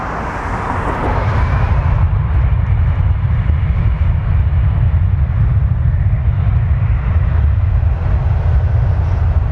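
A Jazz CRJ900 regional jet takes off at Toronto Pearson, its engines building into a loud, steady roar that holds throughout with a broad rumbling hiss.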